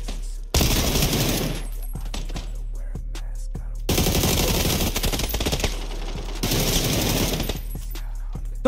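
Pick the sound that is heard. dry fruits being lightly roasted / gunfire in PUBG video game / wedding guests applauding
gunfire in PUBG video game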